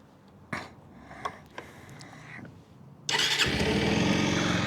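A Bajaj Pulsar 150 motorcycle cranks and fires up after a few clicks and knocks, then settles into a loud, steady idle close by.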